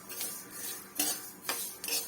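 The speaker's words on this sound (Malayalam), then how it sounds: "ഇളക്കി ഒന്ന് വറുത്തെടുക്കുവാണേ." Chopped cashews stirred and roasted in a pan while making sesame laddoos, giving soft scraping and clinking of a spoon against the pan in a few louder strokes over a steady low hiss.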